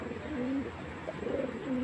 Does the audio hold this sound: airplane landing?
no